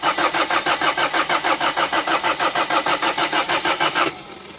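A car engine with solid Mober engine mounts cranks with a rapid, rhythmic starter chug for about four seconds before catching and dropping to a quieter idle, loud and close with no talk.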